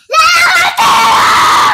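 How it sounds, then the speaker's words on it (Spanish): A four-year-old child screams loudly and shrilly at close range, a sustained high-pitched cry that breaks off for an instant and then resumes, held strongly to the end. "¿Por qué gritás a la gente?"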